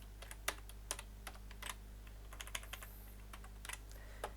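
Someone types HTML code on a computer keyboard. Light, irregular key clicks come in quick clusters with short pauses, close and fairly quiet over a steady low hum, and no one speaks.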